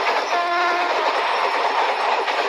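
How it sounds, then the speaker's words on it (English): A speeding Indian train rushes through a station, loud and close, with a continuous roar and rattling wheels and a brief horn tone in the first second. "Why there's guys, a speedy train is coming."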